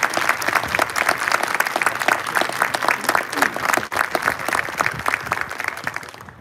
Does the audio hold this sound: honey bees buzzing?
no